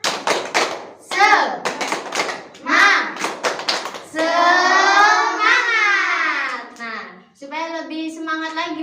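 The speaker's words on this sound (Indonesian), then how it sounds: "Coba dong kita tepuk semangat." Primary-school children in a fourth-grade classroom chant and clap in rhythmic tepuk semangat bursts, sharp clap clusters alternating with loud sung shouts from the group, with a teacher's voice between.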